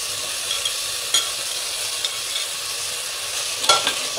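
Tomato, onion and mutton sautéing for a ladies finger mutton curry, a steady sizzle with a few soft scrapes and taps of stirring spread through, close and alone.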